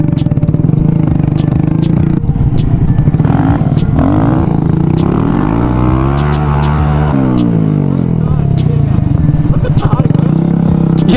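Honda Grom motorcycles riding off-road, engines droning loudly and continuously, pitch rising and falling with throttle changes, with clattering and scraping over rough ground and voices talking over the noise.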